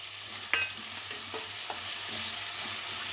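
Chopped tomatoes hit hot oil in a pan for a Tamil Nadu–style small brinjal sambar, giving a steady close sizzle with a few sharp spoon clinks and scrapes as they are stirred.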